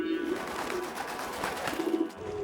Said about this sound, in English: the pigeons round here are a lot smarter than the TV hosts